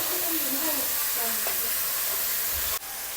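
Ginger and green chili fry in a pan with a loud, steady sizzle that runs continuously, briefly dipping near the end before the hiss carries on.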